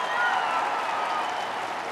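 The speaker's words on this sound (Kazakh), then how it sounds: "сіздердің де қошеметтеріңіз естігіміз келеді" Audience applause at a Kazakh concert in Astana, a dense wash of clapping and crowd noise that holds steady and fairly loud throughout with no pauses.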